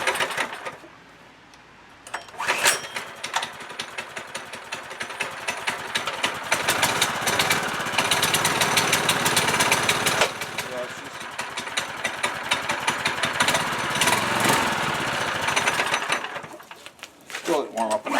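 A mini bike engine with a torque converter running cold on choke, a buzzing, uneven small-engine rattle that revs up after a quiet start, dips and surges, with someone talking over it.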